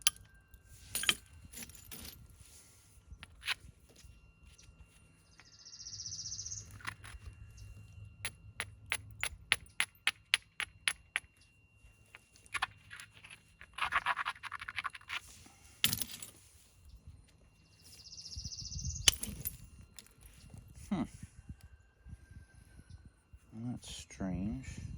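Raw coral being knapped, with flakes popped off by sharp, bright ticks and clinks, including a quick run of rapid taps, scattered among handling noises, with a person talking at times.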